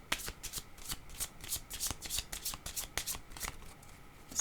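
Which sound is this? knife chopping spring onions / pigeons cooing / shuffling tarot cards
shuffling tarot cards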